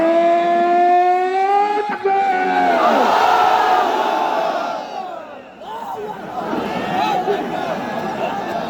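A large rally crowd at Suhrawardy Udyan in Dhaka roaring Islamic slogans after a speaker's Naraye Takbir call, massed voices rising in a sustained, swelling chant, then dipping and surging again, loud and reverberant over a public address system.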